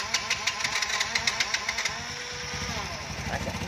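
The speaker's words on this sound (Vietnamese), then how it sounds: "Sẵn nổ máy cho anh em nghe luôn nha." A motorcycle engine sputters with quick rhythmic pops, then settles into a low, steady idle close by.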